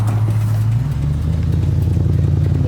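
Terra Tundra, a Toyota Tundra build with full roll cage and front bumper, drives on its first outing, its engine a loud steady low rumble with some clatter throughout.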